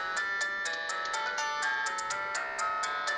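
A Fire-Boltt 4G Pro smartwatch plays a loud electronic ringtone, a bright, repeating melodic pattern of short tones, steady and continuous throughout with no talking.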